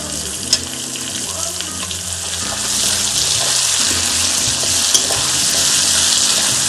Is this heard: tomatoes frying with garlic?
yes